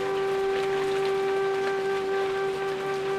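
Steady rain falls during a storm as an even hiss, with a continuous tonal hum running underneath at moderate loudness and no voices.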